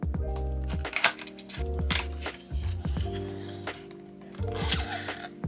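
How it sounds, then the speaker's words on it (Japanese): A Uni Kuru Toga Metal mechanical pencil package is opened, giving scattered crisp clicks, taps and plastic handling sounds. The noises are close and intermittent over steady background music. "それでは開封します"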